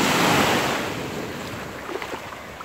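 Sea waves wash onto the beach at Vityazevo in the evening after sunset, a steady rushing surf close by with wind buffeting the microphone and a few small splashes near the end.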